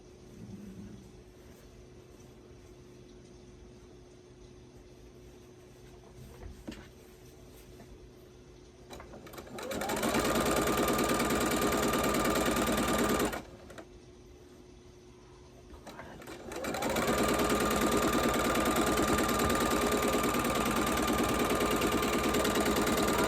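Sewing machine stitching quilt pieces together for a Christmas tree quilt, in two loud sustained whirring runs of several seconds each with a brief pause between them, following quieter handling noise.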